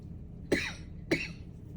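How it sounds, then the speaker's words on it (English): Two dry coughs from a person, close and isolated, about half a second apart, against a quiet room. "And pardon my cough"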